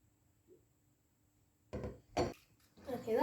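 Sticky spare rib ingredients with sweet chili sauce being mixed in a bowl: after a quiet start come a few close, loud clatters and scrapes of a utensil against the dish, with no talking.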